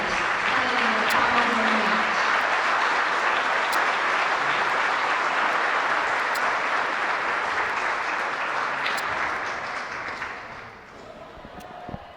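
Sustained crowd applause for graduating seniors at a high school girls' volleyball match in a gym, loud and steady for about ten seconds before tapering off near the end.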